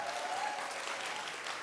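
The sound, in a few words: applause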